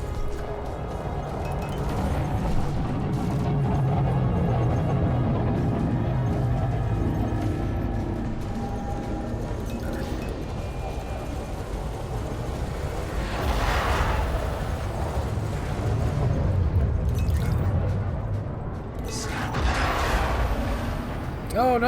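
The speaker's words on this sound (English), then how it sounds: "I do love the withering fire that we're putting out on this guy." Sustained spaceship weapons fire from a modded Alliance Chieftain in Elite: Dangerous, a continuous dense rumbling barrage with whooshing swells, and a voice speaking over it.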